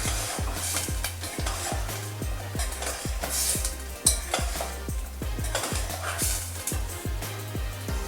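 Paneer sizzles in a hot pan for palak paneer while a utensil stirs it in a steady repeating rhythm, each scrape knocking against the pan under a constant close frying hiss; no talking.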